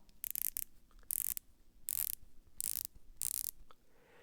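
Ceramic 120-click bezel on a Baltany dive watch turned by hand in short bursts, each giving a quick run of soft, close, crisp ratcheting clicks with quiet pauses between turns.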